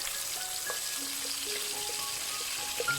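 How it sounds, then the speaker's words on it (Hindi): Ground tomato, onion, almond, green chili and yogurt paste fries in a pan with a steady close sizzle, scattered soft pops and faint stirring scrapes, no voices. "इसमें थोड़ी बहुत भूनूंगी, जैसे ही भून जाएगा फिर मैं इसमें बाकी इंग्रेडिएंट डालूंगी"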